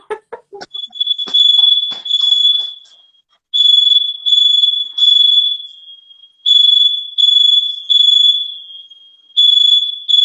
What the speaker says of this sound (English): really defective smoke alarm. Just keeps going off when there's actually nothing for it to go off for